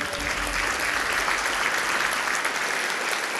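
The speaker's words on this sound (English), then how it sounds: "On les applaudit." An audience applauds representatives of Kativik, Makivik, the MRNF and the Nunavik restoration fund as they go up on stage at an event about cleaning up abandoned mining exploration sites, sustained clapping with a low rumble beneath.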